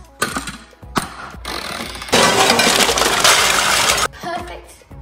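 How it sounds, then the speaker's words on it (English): A blender whizzes a smoothie with the lid on after prawns and kangaroo dog food are added, starting in short loud pulses then running in a sustained grinding whir before cutting out. "All that's left to do is put your lid on and whiz it up."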